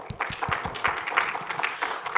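An audience at a lab day talk concert applauds to welcome a speaker to the stage, steady moderate clapping from a mid-sized crowd heard at a distance.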